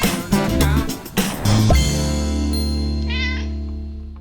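A cat meow sound effect rings out, with a few short meows up front then a longer drawn-out mew fading away under a light chime, loud and close.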